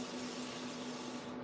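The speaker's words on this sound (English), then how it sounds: "I'm spraying as light as I can to put a little red in the area there" A soft, continuous hiss of an airbrush lightly spraying red paint for skin tones, steady and close, with a faint hum underneath.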